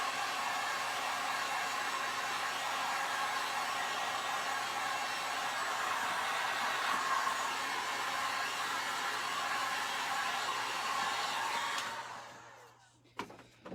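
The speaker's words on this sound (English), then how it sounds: "So I'm just using my little heat tool here and just drying this up." A small craft heat tool blows steadily while drying a Dollar Tree craft sign, a loud continuous whooshing hiss that holds evenly for about twelve seconds before it cuts off abruptly near the end.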